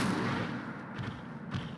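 An Incendio fire spell goes off in the video game Hogwarts Legacy, a dense rushing blast of whooshing, crackling noise that fills the short moment and fades slightly, with no talking.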